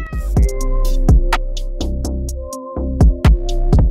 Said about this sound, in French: mais c'est mes chats.